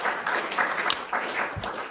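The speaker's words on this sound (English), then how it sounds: "can we just have a round of applause for my good friend Todd" A brief burst of applause from an audience at a morning gathering, clapping steady and moderately close, lasting under two seconds.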